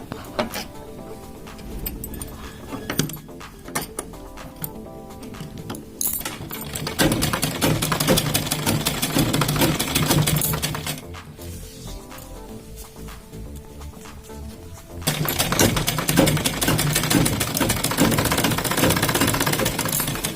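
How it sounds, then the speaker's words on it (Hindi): A sewing machine runs in long bursts while stitching a kurti seam, with quieter pauses of handling between runs. The mechanical whirr and rattle are close and steady, with no talking. "एकदम साइड पे सिलाई लगा रहे हैं"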